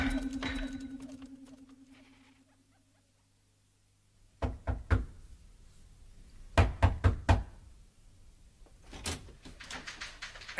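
Knocking on a door in an old British television drama, two clusters of sharp wooden raps, a few quick knocks then a louder group, following a quiet pause after a fading hum.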